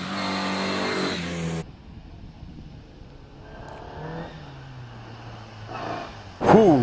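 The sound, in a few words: race car accelerating at Prescott hill climb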